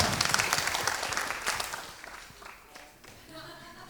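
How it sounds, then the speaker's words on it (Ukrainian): An audience applauds at a comedy league semifinal battle show, dense clapping loud at first and then thinning and fading over a few seconds, with a voice speaking faintly beneath. "Під ваші оплески давайте"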